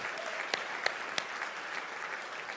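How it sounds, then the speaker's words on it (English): Steady applause from an audience at a luncheon fills the room, a dense even wash of clapping with a few sharp nearby claps standing out. "Let's keep that round of applause going for Michelle"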